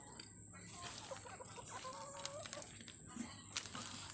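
Soft, scattered clucking from small chickens over a steady background hum, with a few brief chirpy calls rising now and then.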